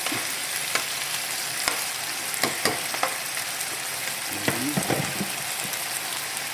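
Chicken feet adobo being stirred in a frying pan, a dense close sizzle broken by repeated scraping and knocking strokes of a utensil, loud and without speech.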